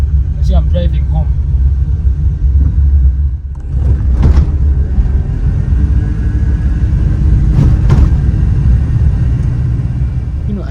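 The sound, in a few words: car driving on the road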